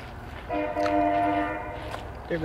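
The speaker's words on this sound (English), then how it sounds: "There goes train." A passing train sounds its horn, a sustained multi-tone blast lasting over a second at a moderate distance, over outdoor background rumble.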